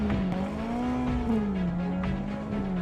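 A Ferrari FF police car with a 6.3-liter V12 driving by close up, a smooth steady engine drone that rises and falls slightly in pitch as it moves, with a faint tire hiss underneath.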